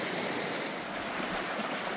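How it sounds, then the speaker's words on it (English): Flowing stream water at an Appalachian Trail crossing, a steady broadband rush with no breaks, fairly loud and close, with no voices. "Buzz packing his electronics up in Ziplocs in case he falls in the water and floats downstream."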